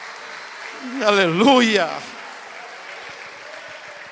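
A church congregation applauds, a brief soft patter of clapping under a preacher's voice, with low crowd noise lingering afterward.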